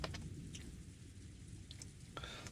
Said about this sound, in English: The sound of rain fades into the distance.